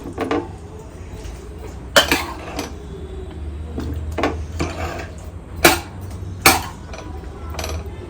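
Banana stem stir-fry is served from the pan into a bowl. A few sharp metallic clinks and knocks ring out against a low background hum, separated by quieter scraping.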